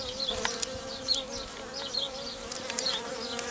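Honeybees swarm around an opened hive during a spring split and queen-cell check, a close, continuous buzz with individual bees zipping past, no voices.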